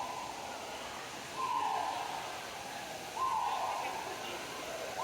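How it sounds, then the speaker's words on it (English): Birds flying free in a warm indoor aviary at Niagara Falls give two drawn-out, hooting whistled calls, faint over a steady background hum. "There's all kind of birds just flying free in this spot."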